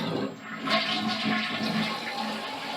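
A toilet flushing as the tank handle is pushed down, a single rushing swirl of water that builds quickly and drains steadily, close and moderately loud with no talking.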